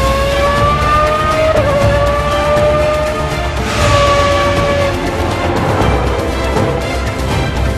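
A Ferrari Formula One race car accelerates hard, its high-pitched engine whine rising and climbing through gears, loud and continuous with a brief surge in the middle and no other voices.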